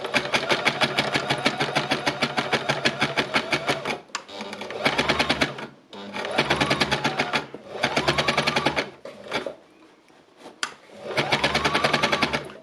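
A sewing machine stitches through built-up layers of fabric for fabric art. It runs in rapid, even bursts of needle strokes, stopping and starting several times with short pauses between runs. The sound is loud and close.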